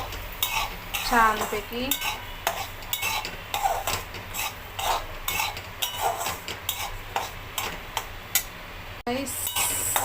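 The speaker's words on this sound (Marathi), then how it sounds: "याच्यात सुजी टाकला. आपण हलवून चांगला मस्तपैकी भाजून घेऊया" A utensil stirs and scrapes semolina (suji) roasting dry in a pan at home, giving a steady run of close clinks and scrapes, with someone speaking briefly over it.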